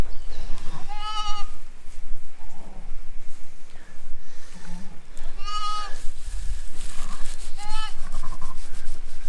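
A ewe and her newborn lambs bleating during lambing season, several separate quavering calls from close by with rustling and shuffling between them and some faint talk.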